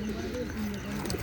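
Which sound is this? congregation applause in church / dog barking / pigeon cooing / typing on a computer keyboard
pigeon cooing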